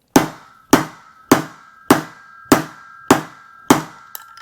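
Seven sharp, evenly spaced metallic whacks ring out from a tool struck during ammunition reloading, each with a brief ringing tail, close and loud with no talk.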